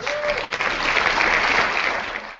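A crowd applause sound effect delivers a dense, even wash of clapping hands that swells quickly, holds steady at full strength for a couple of seconds, then begins to taper off.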